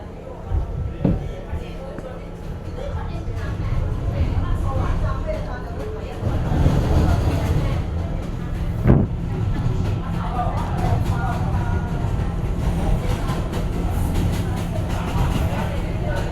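An R211 D subway train running along the line, a steady low rumble and rattle of the carriages with occasional knocks and squeals, continuous throughout.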